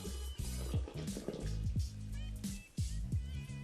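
Hot water being poured into a glass for hot buttered rum, a close, steady trickle broken by repeated gurgling, dripping glugs as the liquid fills the vessel.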